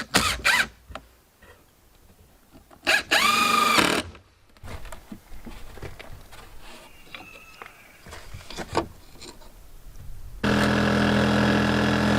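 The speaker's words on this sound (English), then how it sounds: "I get a bigger drill bit" Bursts of a power drill whirring and grinding, several short runs separated by pauses and handling noise, ending in a long steady drilling run, at an off-grid cabin in Alaska.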